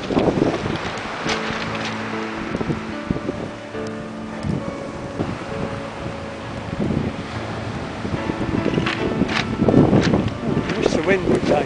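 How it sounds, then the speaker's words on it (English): Strong wind buffets a sailboat at sea, gusting noise and rushing water filling the background while people talk. "I wish the wind would die down a bit."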